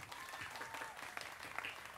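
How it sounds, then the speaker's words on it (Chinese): Audience applause for a shy guitarist at a live band show at Tiehua Village, a dense, steady patter of clapping hands that carries throughout without a break. "你们要给他一点掌声"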